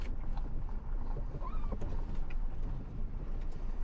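A vehicle fords a shallow creek with a soft, sandy bed on a back road, giving a steady, loud wash of churning water and engine rumble.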